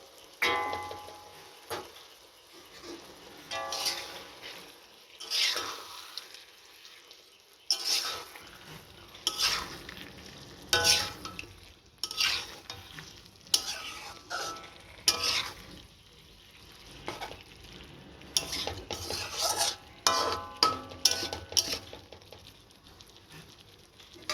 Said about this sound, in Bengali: এবার আমি ধুয়ে রাখা মাংসটা এর মধ্যে দিয়ে আরও কিছুক্ষণ কষিয়ে নেব